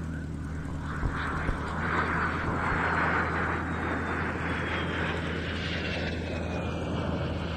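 A de Havilland Vampire jet's steady engine drone fills the clip, broad and continuous as it passes overhead at moderate distance during an evening air display, with no voices.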